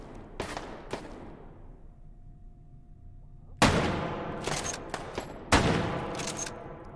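Gunfire from the virtual reality shooter H3VR in Take and Hold mode: a couple of sharp shots early, a quiet stretch, then a loud burst of several close, echoing rounds in quick succession, with no talking.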